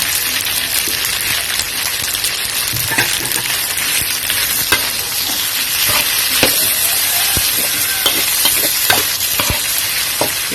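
Macaroni being stir-fried with holy basil and sausage in a Thai-style spicy dish, a steady loud sizzle and frying hiss with scattered scraping and stirring clatters throughout, no talk.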